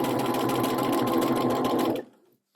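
A sewing machine runs steadily at close range while hemming with a narrow hemmer foot, a fast even whir that stops abruptly near the end.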